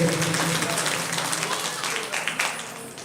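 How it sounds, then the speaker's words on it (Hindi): Crowd applause welcoming guests at a Shree Madbhagwat Mahapuran religious gathering, a loud, dense clapping that slowly fades, with voices murmuring underneath. "सभी आपकी जोरदार तालियों से स्वागत अभिनंदन करती है"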